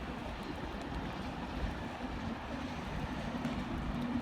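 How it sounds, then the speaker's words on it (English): Pendolino train arriving at Manchester Piccadilly station, a steady low rumble and broad wash of noise held evenly throughout, moderately distant with no clear individual clatter. "Coming in now is a Pendolino."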